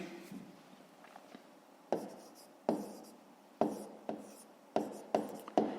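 A pen or pencil writes by hand on paper while working a fifth-grade maths exercise, giving a series of short, scratchy strokes in irregular bursts that grow more distinct toward the end, close and fairly quiet.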